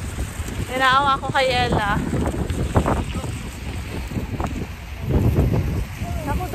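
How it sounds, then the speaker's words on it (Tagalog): A strong outdoor wind in Canada buffets the microphone in rough, uneven gusts, with a person talking over it. "Kasi malakas yung hangin."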